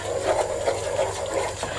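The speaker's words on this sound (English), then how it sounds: "as you pour more water, you stir" Water pours into a thick ogbono okra soup while it is stirred, a close, steady wet sloshing and gurgling with a soft pulsing rhythm.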